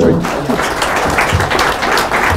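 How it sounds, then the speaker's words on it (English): Panel audience giving the hosts a round of applause, a loud, continuous burst of clapping from a room full of people, with some voices mixed in under it. "Let's give them a round of applause."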